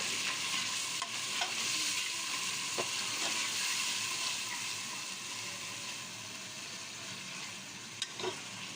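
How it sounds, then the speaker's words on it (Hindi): Tomatoes, ginger, garlic and onion fry in a pan for beef karahi with a steady, close sizzle, broken by a few soft scrapes of stirring. "तो जी अल्हम्दुलिल्लाह हमें टमाटर अदरक लहसुन प्याज अच्छी तरह से भून लिया है।"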